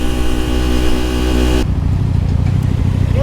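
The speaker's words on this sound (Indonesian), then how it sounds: "Ini ngegas di samping gua, kuping gua sakit banget." A motorcycle engine drones steadily with dense harmonic hum, then a nearby vehicle revs loudly alongside it in a road ride, the roar continuing unbroken and close throughout.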